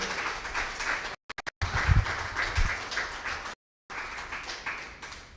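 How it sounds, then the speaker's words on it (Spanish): A church congregation applauds during a sermon, a dense wash of clapping that cuts out briefly twice, with a few dull thumps. "Denle un aplauso al Señor si lo comparte conmigo."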